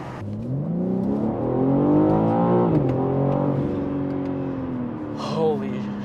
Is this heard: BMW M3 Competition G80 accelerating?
yes